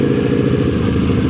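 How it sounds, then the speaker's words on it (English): A Ducati Panigale V4S superbike engine rumbles close and loud in a steady low throbbing burble, riding through city streets in Bangkok, heard briefly on its own without speech. "A Ducati Panigale V4S. This thing is just crazy."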